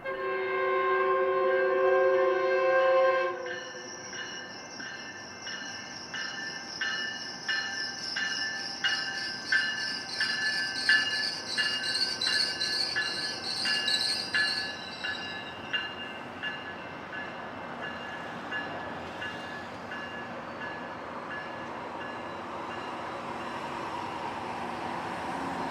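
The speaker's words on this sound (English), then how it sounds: "Santa Fe's old Riverside Depot formed the backdrop as Metrolink came into downtown Riverside." Metrolink commuter train pulling into downtown Riverside beside the old Santa Fe depot, with a loud horn blast at the start, then steady rumbling, wheel squeal and clatter of cars rolling past, fading into ambient noise.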